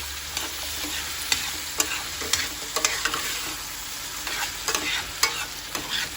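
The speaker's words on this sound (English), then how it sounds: "Then adding the shrimp and the 1 sausage of beef. Once you add it, just mix it up." Shrimp and beef sausage being stirred in a hot pan, a loud crackling sizzle punctuated by repeated sharp spatula scrapes and taps at an uneven rhythm, close up.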